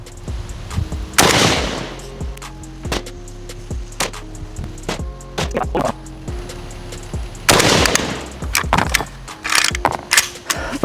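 An AK rifle with a railed dust cover fires during an outdoor shooting test, with sharp, loud single shots spaced irregularly and two heavier blasts, each followed by a brief ringing echo.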